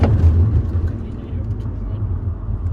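A MINI Cooper S in sport mode pulls hard, its engine a low rumbling roar that peaks at the start and then settles into a steady drone from inside the car, with a voice talking over it.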